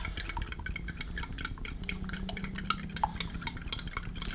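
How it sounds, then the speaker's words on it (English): A whisk works through CC Moore carp bait pop-up mix with a small dose of liquid additive, making quick, uneven clicks and taps against the bowl. The sound is close and fairly quiet, with no talking. "push that aside, and whisk that a little bit more"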